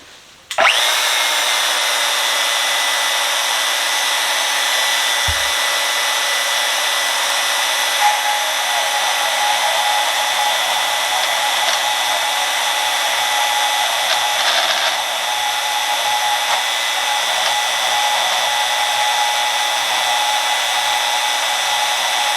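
DeWalt DWM120 portable band saw cutting metal tubing, a steady, loud, continuous whine that runs unbroken for about twenty seconds after a sharp start.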